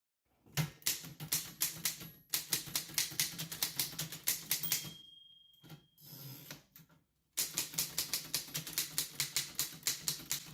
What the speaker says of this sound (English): hunched over his Remington Rand typewriter. His fingers danced across the keys with deft precision as he worked on his editorial.